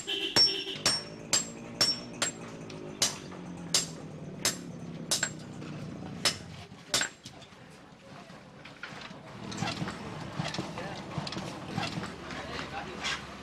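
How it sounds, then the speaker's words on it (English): A blacksmith hammering metal in a village workshop in Bangladesh, sharp ringing strikes in a steady rhythm of about a dozen blows, fading into quieter clatter and background noise toward the end. "This is the blacksmith's workshop."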